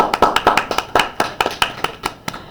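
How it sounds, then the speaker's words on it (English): An algebra class gives a short round of applause, with a dozen or so distinct, loud claps in an uneven rhythm from a small group of students, and no voices over them. "We give a little round of applause."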